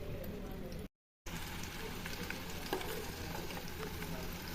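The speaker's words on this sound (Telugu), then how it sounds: "ఈ విధంగా ఇట్లా మంచిగా ఫ్రై కావాలి ఆయిల్లో." Hibiscus leaves, onions and fenugreek seeds fry in hot oil for a homemade hair oil, giving a steady, close crackling sizzle with a short dropout near the start.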